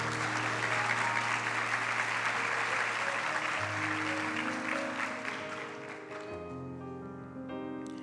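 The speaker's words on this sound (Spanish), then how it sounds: "Un aplauso, por favor." Steady, loud applause from a graduation ceremony audience, sustained for several seconds and fading slightly near the end, with a few sustained musical tones underneath.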